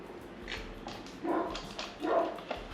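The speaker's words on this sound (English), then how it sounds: "You can hear her barking in the background." A dog barks a few times in the background of a workshop during a humidor restoration, short yips and woofs at a moderate distance with quiet gaps between them.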